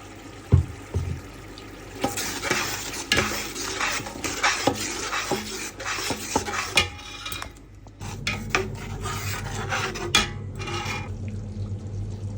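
Blended spice paste is added to a pan of sautéed spices and stirred, giving clattering spoon-on-metal scrapes and knocks with wet, squelching stirring and no talking.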